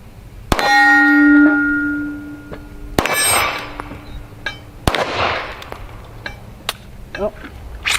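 PSR40 rifle shots ringing off steel targets at an outdoor range, three sharp cracks each followed by a bright metallic clang that rings out and decays, with voices speaking briefly in between.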